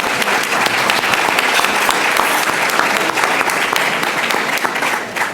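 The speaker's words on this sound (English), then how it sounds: "So big round of applause for Fran Spielman." Steady, dense applause from a sizable audience at a Chicago panel discussion, loud and sustained throughout without a break.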